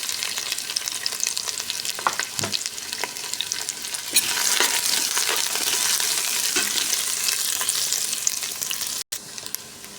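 Ginger sautéing in hot oil gives a steady, fairly loud sizzle with occasional stirring clinks and scrapes throughout, and nobody speaks.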